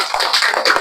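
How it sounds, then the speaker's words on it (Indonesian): Students in a classroom clap their hands together in a loud, quick burst of overlapping claps. "Tepuk tangan dulu."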